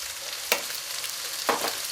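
Chickpeas frying in a non-stick pan, a steady sizzle with two distinct stirring scrapes about a second apart, close and fairly loud, no talking.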